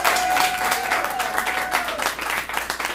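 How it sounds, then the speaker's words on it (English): Audience applause and clapping after performers at a poetry night, a steady dense crowd clapping sustained for about three seconds with some cheering mixed in. "Clap it up for all of our performers tonight."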